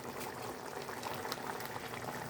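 Shahi paneer gravy bubbling in a pan, a steady soft simmering hiss with faint pops running throughout, close and fairly quiet, with no talking.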